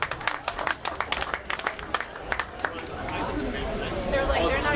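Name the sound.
audience clapping for panel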